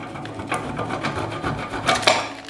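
Chilled chocolate is grated by hand, giving rough rasping scrapes in uneven strokes, close and fairly loud, with a sharper burst of scraping near the end.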